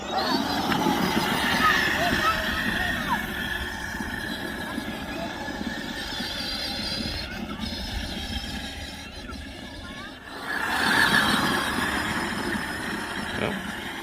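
An upgraded 20V Power Wheels ride-on car carries two people, giving a steady electric motor whine with tyre rumble that swells near the end, while voices talk over it.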